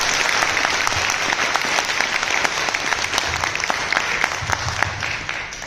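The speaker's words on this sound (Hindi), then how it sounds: "तो एक बार जोरदार तालियां अपने लिए जाकर बजाएं।" Seminar audience in a packed hall applauding, loud sustained clapping with individual claps popping out of the dense crowd noise, gradually tapering near the end.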